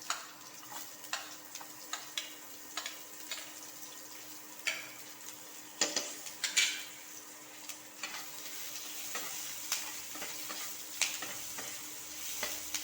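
Chopped onions with black cumin seeds frying in a little oil for a rui fish curry, a soft steady sizzle punctuated by regular spatula taps and stirring, close but fairly quiet.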